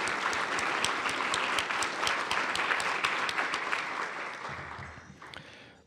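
A room of attendees at a nonprofit association's annual business meeting breaks into sustained applause. Dense, even clapping holds steady for several seconds, then tapers off toward the end with no talk.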